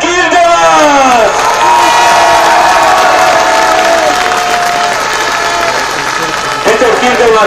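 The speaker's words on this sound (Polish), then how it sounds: "Wielkie brawa" Crowd at a speedway Grand Prix podium ceremony in Częstochowa applauds and cheers for the third-place rider, a steady roar of clapping and whoops with a male announcer's voice running over it throughout.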